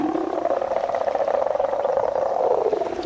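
A loud, drawn-out dinosaur roar from the Roblox game Dinosaur Simulator, with a deep, growling tone, holding steady for several seconds with no talking.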